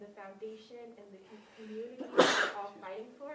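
A single sudden sneeze bursts out near the middle of a speech at an MLK Day community advocacy workshop, loud against the speaker's steady voice, which carries on before and after it.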